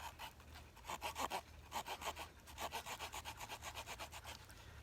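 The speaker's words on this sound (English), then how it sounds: "I'll use that saw for making notches" The small saw blade of a Victorinox Huntsman pocket knife cuts through wood in quick, rhythmic rasping strokes, close and steady, speeding into a fast even back-and-forth toward the end, with no voices.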